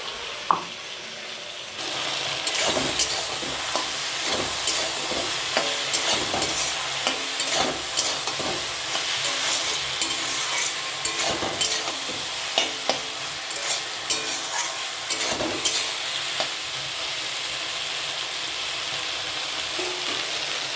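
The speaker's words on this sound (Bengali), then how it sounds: "আদা রসুন পেস্ট হয়ে গেল, আদা রসুন বলছি, জিরা আর আদা সেখানে দিয়ে দেবো।" Ginger and garlic paste with cumin frying in a pan, a steady close sizzle with repeated scraping and stirring clatters throughout, no voices.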